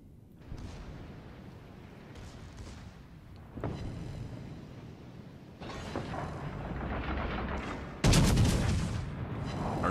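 Secondary guns of the battleship Scharnhorst fire in World of Warships Legends, a series of booming naval salvos building in loudness over a low rumbling background, with the heaviest blast near the end.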